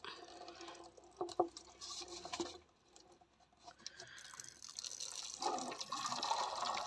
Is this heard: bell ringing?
no